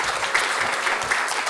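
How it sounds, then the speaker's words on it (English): A room claps through a round of applause at a school district board meeting, a brief, continuous wash of many hands at moderate loudness. "Can we get a round of applause for them?"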